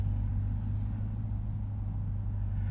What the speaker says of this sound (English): we are setting off in the C8 here